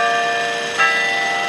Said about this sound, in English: there's chimes going off.